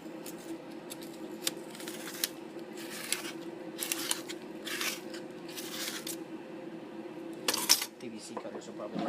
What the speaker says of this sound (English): I'll just take scissors.